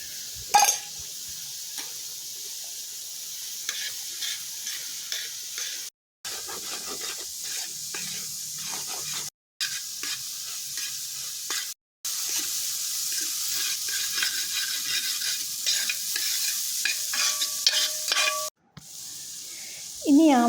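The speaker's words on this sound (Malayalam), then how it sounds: "അല്പം ഓയിലും കൂടി ഒഴിച്ച് എടുത്തു വെച്ചിരിക്കുന്ന മുട്ട ചേർത്തൊന്ന് ചിക്കി പൊരിച്ചെടുക്കുക" Beaten egg scramble-fries in oil in a pan for chicken fried rice. A steady, close sizzle runs throughout, with scraping stir strokes and a few short breaks in the sound.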